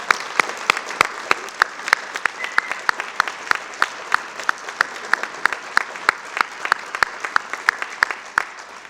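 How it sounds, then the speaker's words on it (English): An audience at a university alumni awards ceremony applauds in a steady wash of clapping, with louder individual claps standing out in a loose rhythm throughout. "please join me in one final round of applause for Amy Oliver, Dan Kraeger, Elizabeth Evans"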